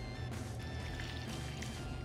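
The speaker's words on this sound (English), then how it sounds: "We're gonna pour in our beer stock." Beer stock is poured over blanched lobster in a seafood dish, a soft steady trickle of liquid running quietly for about two seconds.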